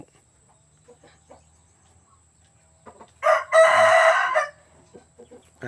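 A rooster crows once loudly and close among breeding chickens on a rural farm, a single strong call standing out after quiet, scattered clucks and soft background sounds.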